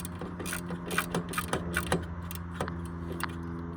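A hand ratchet tightens bolts on the alternator of a 2010–2014 Subaru Outback, a close, quick run of clicking strokes with short pauses between the turns.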